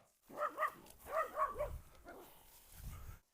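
Dogs bark among sheep, a few quick close barks followed by further yips and lower rumbling, fairly faint overall.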